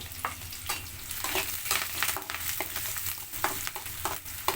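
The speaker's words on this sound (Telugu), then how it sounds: "కరివేపాకు కూడా వేసి కొద్దిగా ఫ్రై అయ్యేదాకా ఆగుదాం" Green chillies, onion and curry leaves frying in hot oil for a potato fry, a busy continuous sizzle with frequent crackles and pops, close and fairly loud, no voices.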